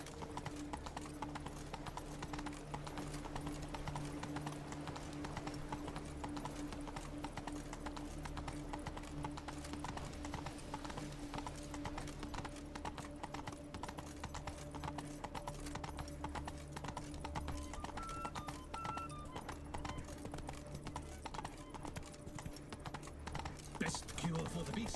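Roach, Geralt's horse in The Witcher 3: Blood and Wine, gallops with steady, rapid clip-clop hoofbeats running continuously over game ambience, and a voice speaks briefly over them.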